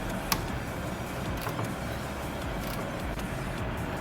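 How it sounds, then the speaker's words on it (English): A breaker bar works loose rusty brake caliper bolts on a 2003 Vauxhall Corsa C. Sharp cracks and creaks stand out against a steady, rumbling background close by. "get the strong arm and let's crack these off"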